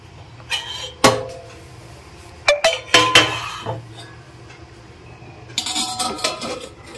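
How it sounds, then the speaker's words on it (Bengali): A metal lid goes onto a pot of rohu fish curry with winter vegetables and bori, giving several sharp clanks and clinks spread over a few seconds against a quiet kitchen hum. "একটা ঢাকনা দিয়ে ঢেকে দিচ্ছি।"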